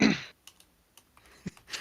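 Several sparse keystroke clicks on a computer keyboard follow a brief louder burst, quiet and close, with gaps of silence between taps and no voices.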